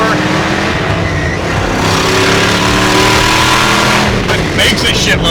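A 1969 Chevrolet Camaro engine at full throttle in second gear, with a leaking header, roars loud and steady from inside the car before a gear change near the end.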